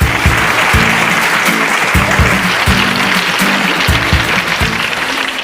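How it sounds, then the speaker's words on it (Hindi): Steady applause from a game-show audience, dense and even, with sharp individual claps punctuating the wash throughout. "जोरदार तालियां हो जाए।"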